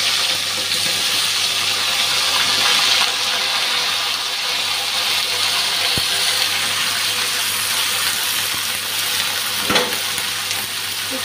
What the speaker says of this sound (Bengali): এখন এঁচড়টা ভেজে নেব।